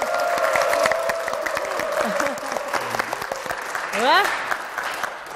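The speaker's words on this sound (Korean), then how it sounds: "박수만으로도 네. 교회 열기가 느껴집니다." Applause from a church congregation with scattered cheers, while a voice speaks and an exclamation rises over the clapping.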